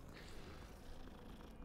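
A cat purrs continuously in Hogwarts Legacy, a close, steady low rumble with a soft breathy texture throughout.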